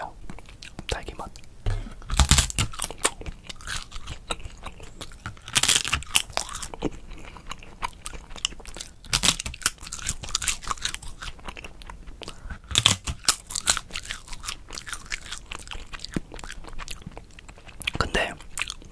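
Edible colored paper, strawberry and apple flavored, crunches between the teeth in a close-miked ASMR eating session, with sharp bites and crackly chewing bursts recurring every few seconds alongside soft whispered talk.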